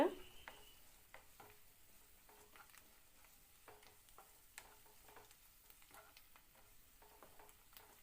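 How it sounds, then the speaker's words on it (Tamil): Soft sizzling of onions and curry leaves sautéing in a pan, with repeated scraping and stirring of a spatula, quiet and steady, with no talking. "ஒரு நிமிஷம் கடைசியாக நல்லா வதக்கி விட்டுருங்க."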